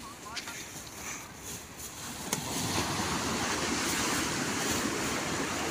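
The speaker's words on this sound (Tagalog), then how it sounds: "Kasi malaki yung alon eh, no?" Large sea waves break and wash along a beach shore, a steady broadband roar that swells louder midway and stays full, with a brief burst of voices early on.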